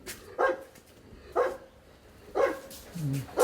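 Dog barking at a son's house, a few short separate barks spaced across a couple of seconds, moderately near, with faint room sounds between them.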